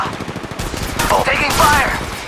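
Rapid bursts of automatic gunfire in the mobile battle royale game Apex Legends Mobile, loud and close, with sharp shot sounds overlapping through the whole stretch.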